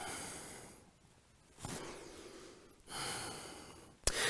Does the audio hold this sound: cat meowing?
no